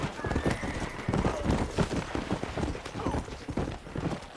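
In the Western game Red Dead Redemption, a horse's hooves clop steadily on the ground while it neighs and whinnies, with background game noise and faint speech mixed in.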